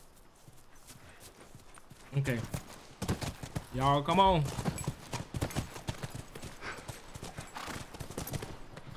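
Horses' hooves clip-clopping in The Last of Us video game, a rapid run of clopping steps with a brief whinny, while players talk over it.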